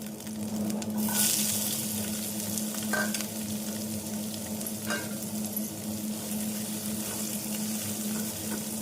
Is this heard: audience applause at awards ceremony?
no